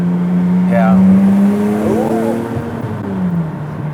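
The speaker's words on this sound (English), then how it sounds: "what exhaust setup do you have on this? It sounds good." A 1991 BMW E34 M5 with a stock exhaust and some parts deleted idles and revs with a deep engine drone under close conversation on a Los Angeles street.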